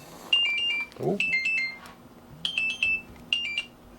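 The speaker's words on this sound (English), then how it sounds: "So that's my alarm that says if you're not awake," A phone alarm rings in repeated bursts of quick bright electronic beeps, close and loud, with a short exclamation from a person partway through.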